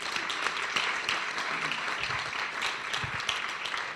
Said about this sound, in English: Destiny Alicia deserves another round of applause